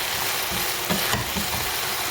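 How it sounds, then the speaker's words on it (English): Seasoned meat pie filling with oregano and a stock cube stirred in a hot pot, a dense continuous sizzle with soft scraping strokes of the spoon. "Give it a very good stir."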